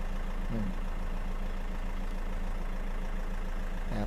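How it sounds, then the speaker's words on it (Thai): The 2.5-litre diesel engine of a 2013 Toyota Fortuner idles steadily with a low, even rumble that holds constant throughout, close by and unbroken. "ฟังเสียงเครื่องยนต์นิ่มๆนะครับ"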